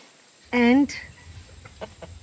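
A single loud cluck-like call from chickens in a shaded permaculture food-forest run in Queensland, followed by faint scattered clucks and rustling in the background.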